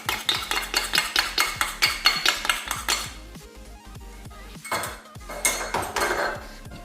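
A potato starch mixture stirred in a pan, with a metal utensil clanking rapidly and rhythmically against the pan, then slowing into a few scattered scrapes and knocks, close with no talk.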